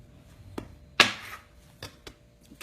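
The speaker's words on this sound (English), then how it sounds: "I'm going to cut it using the scraper." A bench scraper cuts through no-knead bread dough on a work surface, giving a few soft, separate taps and scrapes, with one sharper contact in the middle and fainter knocks on either side.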